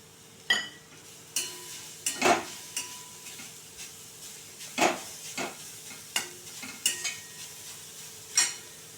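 Grated carrot being sautéed on low heat for veg momo filling, heard as a quiet, soft sizzle with a string of close scraping stirs and light clinks of a spoon against the pan, no talk.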